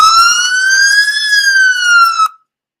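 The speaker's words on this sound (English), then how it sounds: "every time we say plant-based, we're gonna play that siren" A loud electronic siren wail holds a single rising-and-falling tone for about two seconds, then cuts off abruptly into silence.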